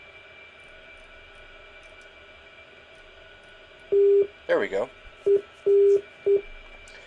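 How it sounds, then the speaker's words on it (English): A Morse code station identifier tone over the A-10C radio in a DCS flight simulator, several short and long beeps of a single steady pitch above faint cockpit hum, with a brief spoken phrase just before the beeps. "that tone that you hear is a Morse code identifier, which tells us that we are tuned into the correct station"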